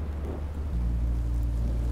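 Rain and a low rumble of thunder in the video game Minecraft: Story Mode, a steady wash of rainfall with a deep roll swelling in partway through, continuous and fairly loud with no talking.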